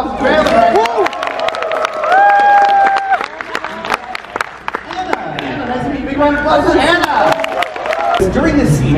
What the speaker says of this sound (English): Give me a round of applause for Phelan